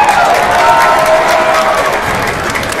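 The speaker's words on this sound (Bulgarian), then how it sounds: "Аплодисменти за всички жители на село Голеш!" An outdoor village gathering in Golesh, Bulgaria, breaks into loud applause and cheering from a large crowd, dense and sustained throughout, with a few voices mixed into the din.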